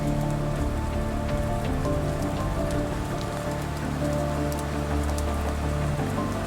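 Steady rain falls close by, a dense unbroken hiss of drops, with a low sustained tonal hum underneath throughout.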